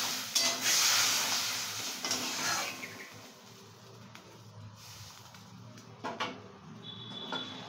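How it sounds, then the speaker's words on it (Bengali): Water poured into a pan of bata fish fried with salt and turmeric, a loud hissing rush at first that settles into a quieter bubbling simmer with a few clinks of a utensil. "এবার মা জল দিয়ে দিচ্ছে।"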